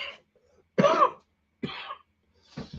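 A throat clearing followed by two short coughs, close and fairly loud, separated by brief silences.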